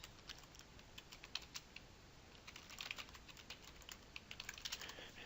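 Administrative login credentials typed on a computer keyboard, a steady patter of soft keystrokes throughout, faint and close against a constant hiss.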